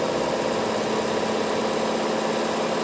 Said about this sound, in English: And turn it, and then sew up the side.